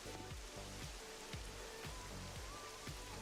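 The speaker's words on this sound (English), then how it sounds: "So enjoy the fine rain sound effects." Steady rain falls in the Pokopia video game, a dense continuous patter of drops on surfaces that holds at an even level for the whole stretch, heard alone with no voices over it.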